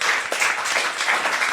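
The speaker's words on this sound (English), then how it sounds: "One more time, a round of applause for all of our guests and for the audience here tonight." Audience applause at a live talk show event in Berlin, a dense burst of many hands clapping in a lively rapid patter, fairly close and steady throughout.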